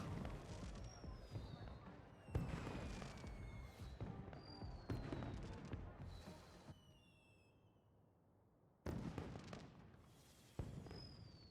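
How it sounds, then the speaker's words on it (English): Fireworks from a projector in the video game Beyond a Steel Sky, several loud bursts with crackling whistles and trailing fizz, separated by a brief quieter lull. "Если я вот такой фейерверк сделаю"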